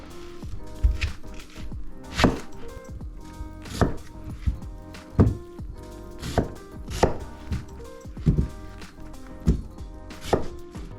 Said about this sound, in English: I'm gonna chop up 1 medium white onion.